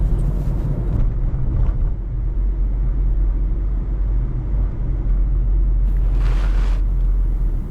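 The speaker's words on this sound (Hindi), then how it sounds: "इस टाइम मैं ड्राइविंग कर रहा हूं हॉलीवुड बुलेवार्ड पर" A car rolls along Hollywood Boulevard in West Hollywood, a steady low road rumble from the cabin with brief brighter whooshes of passing traffic, continuous and fairly loud with no talking.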